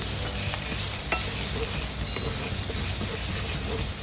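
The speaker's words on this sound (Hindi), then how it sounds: "डालेंगे गार्लिक। एक मिनट तक इसे चलाएंगे" Garlic frying in a pan for bruschetta, a steady, dense crackling sizzle that holds unbroken throughout, close and fairly loud, with faint stirring scrapes underneath.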